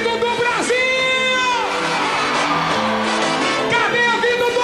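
A live crowd at a Brazilian TV variety show, where a group performs 90s axé music, shouts, whoops and cheers loudly and without a break over the stage music and amplified voices.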